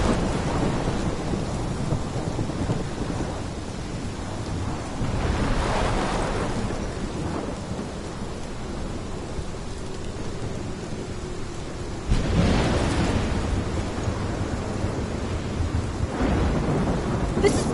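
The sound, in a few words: thunderstorm with rain in video game Life is Strange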